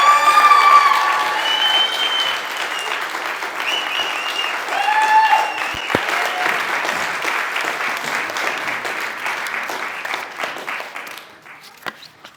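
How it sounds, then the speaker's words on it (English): Sustained applause from a gathered crowd welcoming the bat mitzvah girl at her celebration in Oakland, steady and full for about eleven seconds, with cheers and whoops over it, then fading out. "it is my absolute honor and round of applause as we welcome up our bar mitzvah girl, Kira."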